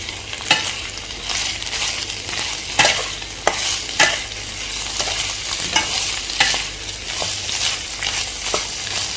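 Thinly sliced capsicum is stir-fried in a hot pan for chicken fried rice, with a loud, constant sizzle and repeated sharp spatula strikes and scrapes close up, with no talking.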